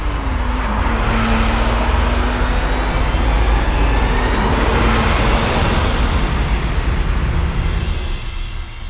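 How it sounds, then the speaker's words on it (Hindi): A car being driven, its engine and road noise forming a steady, loud, continuous rumble with a faint tonal hum throughout, no voices heard. "चुपचाप गाड़ी चलाएंगे बस"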